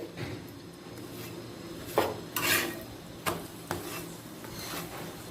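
Dal puri made with split pea filling fries in oil in a pan, a steady low sizzle running under several sharp scrapes and clatters as the flatbread is turned and pressed.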